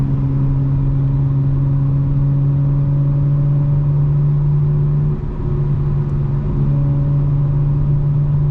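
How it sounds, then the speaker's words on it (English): A 2025 BMW M4 Competition xDrive cruises with its engine droning in a steady, loud low hum, then briefly dips and shifts tone as the throttle lifts before settling back, heard up close from inside the car. "when I let go, you hear the intake more than the burble, which is also a beautiful sound"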